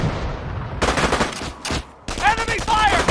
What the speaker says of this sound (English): Enemy fire! Get down!